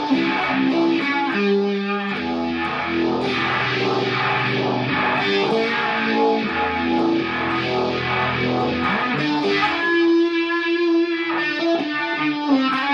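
Electric guitar played through a Sunbender fuzz, univibe, reverb and long delay on an Analog Man custom pedalboard, giving a loud, continuous phrase of sustained, swirling fuzzy notes and chords with washy repeats and no talk.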